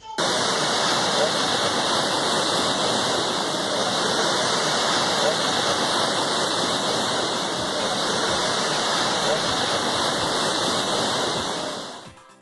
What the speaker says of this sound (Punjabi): ਪਾਣੀ ਦੀਆਂ ਇਹਨਾਂ ਤੇਜ਼ ਲਹਿਰਾਂ ਦੀਆਂ ਆਵਾਜ਼ਾਂ ਸੁਣੋ